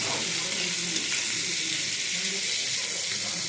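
Bitter gourd fries in hot oil with a steady, dense sizzle that fills the whole stretch evenly, close and fairly loud, with no pauses or voices over it.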